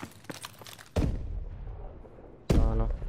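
Gunshots in a 4v4 online shooter game: two loud, sharp blasts about a second and a half apart, each with a booming low tail that rings out, after a quieter patch of small clicks and taps.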